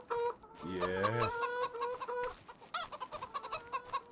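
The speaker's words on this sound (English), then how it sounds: "Chickens are noisy today." Chickens on a farm in Farming Simulator 25, clucking loudly and repeatedly close by, with one drawn-out squawk early on and a busy run of short clucks after it, no talk.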